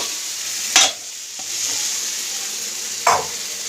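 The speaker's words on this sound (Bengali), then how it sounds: "ঝোলটা ভালো করে কষিয়ে জল দিয়ে দেবো" Fried cauliflower in a curry gravy is sautéed in a pan. The sizzle is close and steady, broken by two sharp scraping stirs of a spatula.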